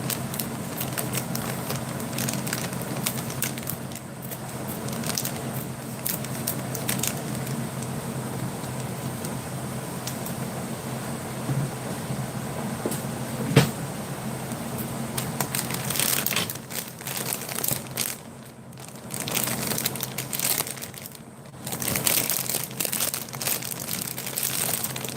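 A 24-hour zombie ration pouch being cut open with scissors and handled, giving close, continuous crinkling and rustling of packaging with a few sharper clicks and crunches and no talking.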